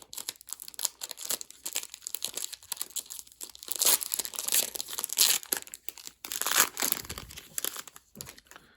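A wax pack of Bowman basketball trading cards being torn open, close crinkling and ripping of foil wrapper in uneven bursts that grow louder midway.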